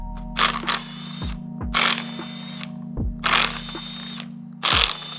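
Torx T45 bolts being worked loose from a Raptor R supercharger, heard as four sharp clicks with brief metallic ratcheting bursts at regular intervals, close and distinct over a steady hum.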